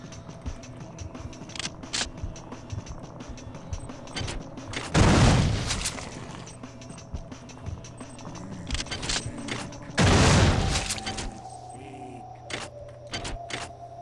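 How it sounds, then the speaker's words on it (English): Shotgun trouble in the video game System Shock 2: two loud, blunt mechanical bursts about five seconds apart, each lasting under a second, over a steady low game hum with scattered clicks. "when the gun jammed right then and there"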